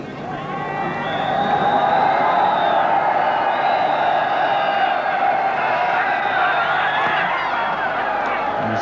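Crowd of Pakistan supporters at a Lord's Test match in 1982, a broad, steady wash of cheering and whooping heard from a distance, sustained throughout, with a commentator's voice faintly over it.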